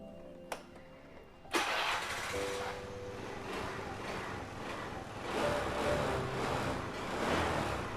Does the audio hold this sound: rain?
no